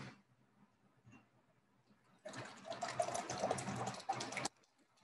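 Water gushing for about two seconds, as if poured or run from a tap to fill a glass for a drink. It starts and stops abruptly and is fairly loud and close, with a quiet room on either side.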